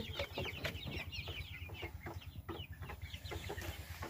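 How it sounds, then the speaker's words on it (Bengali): Free-ranging tiger chickens cluck softly while eating, with scattered short calls and pecking over a steady low background hum. "কিছু কিছু মুরগি খাবার খাইতেছে"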